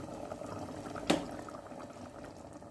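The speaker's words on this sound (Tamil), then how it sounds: "இப்போ நம்ம எப்படி கொதிச்சுட்டு இருக்குது" Chicken curry made with coconut milk bubbles in a pot, giving a soft, continuous simmering burble with one brief louder pop partway through.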